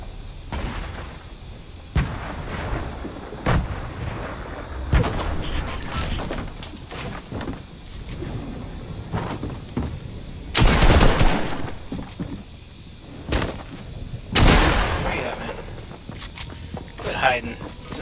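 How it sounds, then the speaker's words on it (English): Gunfire in a first-person shooter played on a Lenovo Legion 5 laptop, with bursts of shots and loud blasts scattered across the stretch amid constant game noise and someone talking throughout. "I heard somebody shooting over here."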